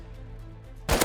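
A single burst of MP5 submachine gunfire from a video game, loud and sharp near the end after a quiet stretch of background.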